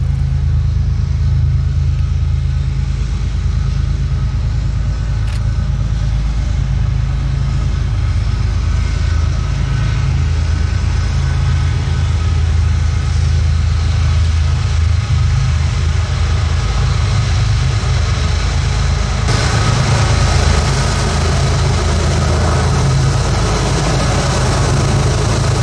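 CSX GE diesel locomotives on the Sand Patch Grade exit a tunnel with a loud, constant low engine rumble and roar that hold steady throughout, close and heavy, with no voices.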